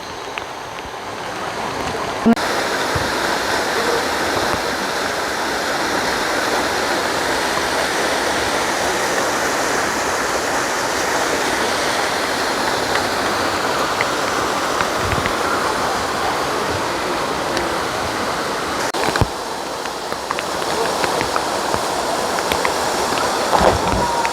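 Rushing water at the Yongso waterfall on a rainy, cold day, a steady, loud roar of falling water with a few brief knocks.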